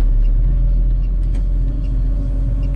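A KAMAZ municipal road-maintenance truck drives along a snowy city street on New Year's Eve, heard from inside as a loud, steady low engine drone and rumble with no talking.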